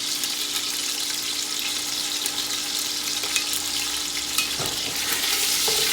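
Chicken browns in a pot for jambalaya with a loud, steady, close sizzle and fry, broken near the end by a few scraping knocks of a utensil against the pot.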